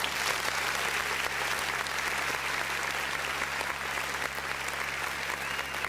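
An audience claps continuously through a community finance gathering, a dense, even wash of many hands close and loud from start to finish with no letup.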